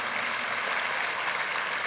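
Steady applause from a church congregation, a dense even wash of many hands clapping with no pauses, fairly loud and continuous.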